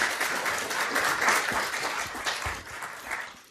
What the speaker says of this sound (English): I'm going to ask that we hold applause after we do opening statements till the very end